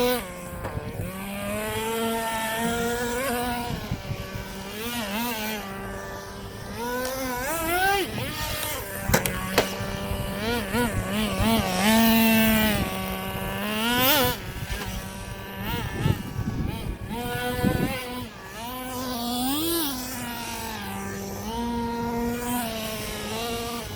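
A small 3D printed RC car whines and buzzes as it drops down into a skatepark bowl, its electric motor pitch rising and falling steadily over about twenty seconds, fairly close and continuous.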